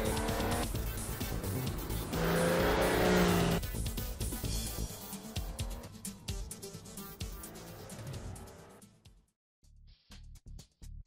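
A Porsche in a racing video game drives a free-roam map, its engine droning and revving steadily with a surge in the middle, then cutting out near the end with a few short bursts.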